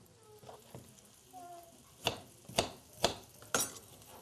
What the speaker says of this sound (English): I'm going to chop up my other ingredients here.